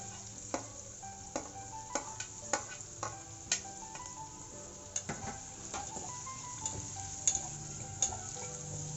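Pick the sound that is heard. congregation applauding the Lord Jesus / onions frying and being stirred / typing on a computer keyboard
onions frying and being stirred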